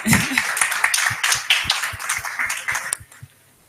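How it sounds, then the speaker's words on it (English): A few people clap for the organizer at a screening for deaf and hard of hearing viewers, sparse and uneven close-up claps that thin out and stop after about three seconds. "So I think it'll be good if we also give her a round of applause."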